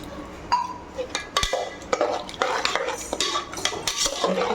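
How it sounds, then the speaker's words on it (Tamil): A metal spoon stirs curd and water inside a steel pressure cooker for a cluster bean gravy, giving repeated scraping clinks and clatters against the pot close to the microphone. "தயிர் எல்லாத்தையும் நல்லா கலந்து அதுக்கு தேவையான மூழ்கிற அளவுக்கு தண்ணி"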